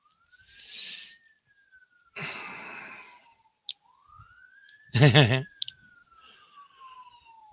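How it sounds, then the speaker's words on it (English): A distant fire truck siren wails, rising and falling slowly as it passes, while breathy sighs and a short voiced sound come and go close by. "we've got emergency services going past. You may hear the siren."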